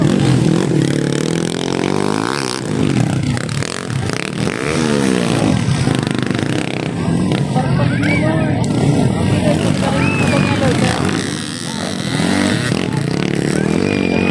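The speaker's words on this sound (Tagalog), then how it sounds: "Namatay pa yung motor niya!" A motorcycle engine revs loudly up close amid clattering and excited shouting, then the engine note drops away as it stalls.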